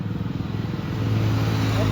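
A KTM Duke 390 motorcycle engine runs steadily nearby with a low, even throb, partly under a voice talking over it.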